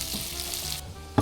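Pancake batter fries in a pan at a mountain campsite, a close, steady sizzle with a brief louder clatter at the end.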